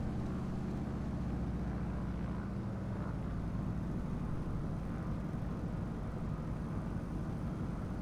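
A steady, droning piston engine of a Cessna 195 airplane hums in a flight simulator, a constant low rumble holding even loudness without a break.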